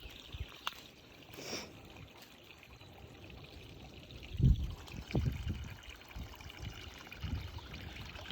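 A clear, algae-lined brook near Austin, Texas trickles and burbles steadily close by, with a few louder splashy surges partway through.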